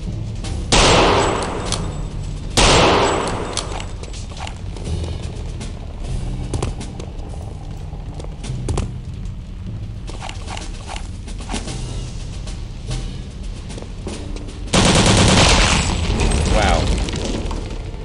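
Gunfire in the Return to Castle Wolfenstein video game: a few loud broadband bursts near the start and again later, between stretches of quieter game noise, with someone talking throughout.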